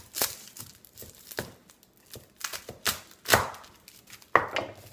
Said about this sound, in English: We can just cut it in half.